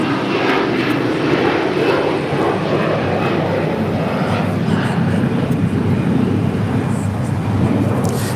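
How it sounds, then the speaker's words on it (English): United Airlines Boeing 757-300 jet arriving from Dulles at LAX, its engine roar loud and steady throughout, close and continuous with a broad rumbling wash. "That is United Airlines flight 632 coming in from Dulles, the 757-300"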